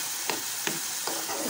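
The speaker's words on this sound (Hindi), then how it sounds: "इसको मैं अच्छे से भून लूँगी।" Saag tempering with salt and green chillies fries in a pan, a steady broadband sizzle running throughout, broken by three sharp stirring scrapes at roughly regular intervals.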